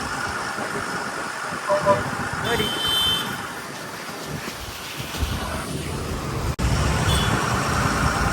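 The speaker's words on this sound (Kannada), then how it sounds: "ದೋಣಿ ತಗೊಂಡು ಹೋಗ್ತಿದ್ದೇವೆ ಹಾರ್ಬರ್ ಒಳಗೆ" A fishing boat's engine hums steadily as the boat heads into the harbor during the rainy season, with wind and water noise around it and someone talking over it.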